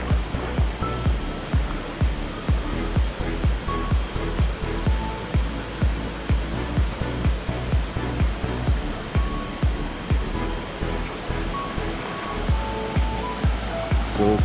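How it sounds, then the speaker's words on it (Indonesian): A waterfall at a riverside campsite at Lubok Petai, Kampung Sahom, Kampar, roars in a steady, loud, dense rush of water that fills the whole stretch. "Yang tu air terjun."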